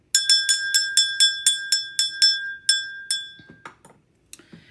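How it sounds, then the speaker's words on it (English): A bright, glassy bell is rung repeatedly in quick strikes, each ringing tone decaying, about a dozen hits slowing toward the end, followed by a few softer clinks. "We're going to ring the bell on this one, Gemini."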